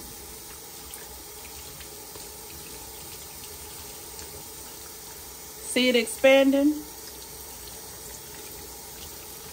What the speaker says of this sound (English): So you just run it under water.